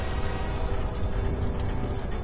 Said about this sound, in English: Train's on the tracks.